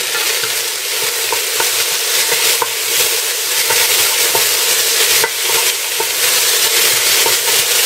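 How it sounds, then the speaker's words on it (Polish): Finely chopped vegetables hit hot olive oil in a pan for a Polish mushroom soup, sizzling loudly and continuously up close while a spoon stirs them, with small clicks and scrapes and no voices. "Jak nam się oliwa fajnie tutaj już rozgrzeje, teraz wrzucam już tu te wszystkie drobno pokrojone warzywa. I mieszam."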